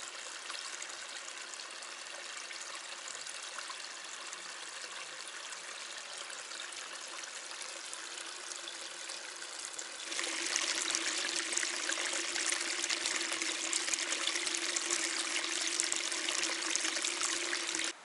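A mountain river in a Crimean forest rushes and gurgles in a continuous, close wash of flowing water that grows louder and brighter partway through, with no voices.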